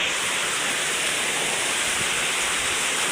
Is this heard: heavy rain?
yes